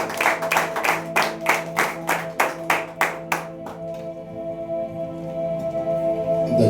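A church congregation claps together in a quick, even rhythm, about a dozen sharp loud beats in a row, then stops and leaves sustained organ-like music playing alone.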